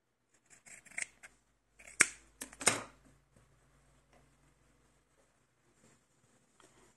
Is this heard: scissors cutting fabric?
yes